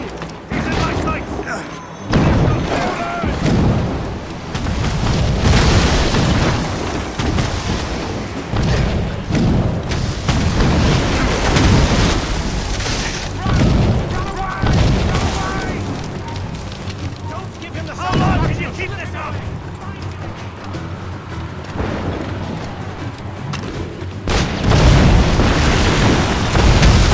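Ship cannons open fire during a naval battle in the video game Assassin's Creed Rogue, with a series of loud, heavy booms and rumbling blasts mixed with shouting voices and game audio throughout.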